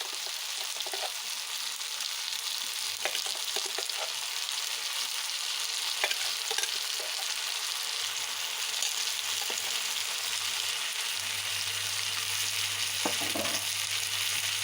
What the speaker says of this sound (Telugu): దొండకాయలు కొంచెం వేగిన తర్వాత దీంట్లో ఉల్లికారం వేసుకోవాలి